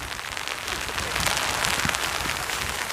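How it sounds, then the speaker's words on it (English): Rain falling close by near the erupting Reykjanes volcano on Iceland's Reykjanes Peninsula, a dense, steady hiss of drops that thickens slightly after the first second. "Oh my god, it's raining."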